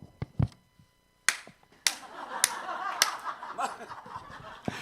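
One person demonstrates the forceful way an elderly pastor claps at a church rally, with a few sharp, loud hand claps spaced apart and then a quicker run of claps over faint room noise.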